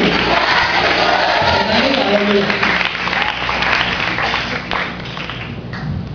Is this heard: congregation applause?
yes